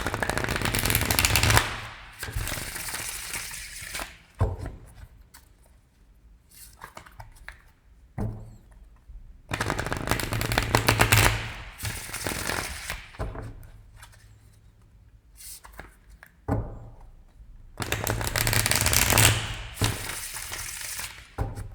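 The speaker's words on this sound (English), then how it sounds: "We'll go ahead and start with a pre-shuffle using the Book of the Dead." A Book of the Dead tarot deck is shuffled by hand in three separate bursts of rapid, papery card riffling, close up, with quiet pauses between them.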